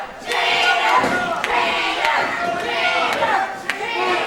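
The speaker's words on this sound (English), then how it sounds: "the crowds at IWA Productions are a lot more energetic than what I've seen around Central LA lately" Energetic crowd cheering and shouting at an IWA Productions wrestling show, a dense continuous roar with scattered claps and yells close around, under commentary talk.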